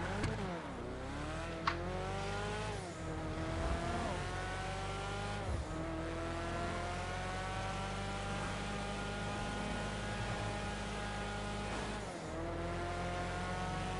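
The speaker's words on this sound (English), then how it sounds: "Well, I mean, our Ramirez was drifting just fine." A car drifts in the video game GTA V, its engine droning and revving continuously with rising and falling pitch and brief shifts, while faint tire noise runs underneath and no one speaks.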